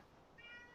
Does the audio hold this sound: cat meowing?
yes